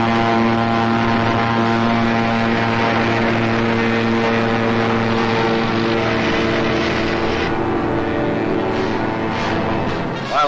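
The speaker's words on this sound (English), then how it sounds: "High overhead, British fighter planes fought the Luftwaffe to a standstill." Propeller engines of British fighter planes roar overhead during the Battle of Britain over Dunkirk, a loud continuous droning hum sustained for about ten seconds with no voices.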